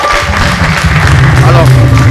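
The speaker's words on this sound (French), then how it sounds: "J'aimerais qu'on applaudisse très fort pour nous." Crowd applause at a celebration of a singer's 16-year solo career, dense clapping with loud crowd noise and voices mixed in throughout.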